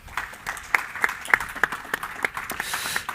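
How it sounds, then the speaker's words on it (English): Light applause from a conference audience at a supply chain sustainability forum in London, scattered individual claps standing out over a soft background of clapping, fairly brief. "A warm round of applause for all of them, please."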